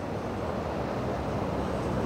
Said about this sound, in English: Can you hear the sea?